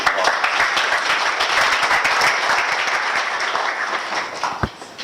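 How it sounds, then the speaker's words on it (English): A Stanford lecture audience gives a warm round of applause for a speaker. The dense, continuous clapping fills the room and holds fairly even throughout, with a single sharp knock near the end. "So let's give her a warm Stanford applause."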